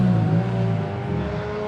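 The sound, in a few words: Honda drift car engine revving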